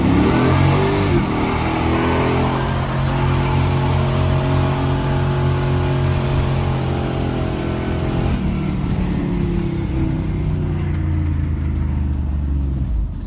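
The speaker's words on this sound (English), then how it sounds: "I'll put her down in second and give you guys a little." A salvage-title V8 Camaro accelerates hard in second gear with its tires spinning, the engine roaring loud and close in a rising, sustained pull that drops off briefly near the end before revving again.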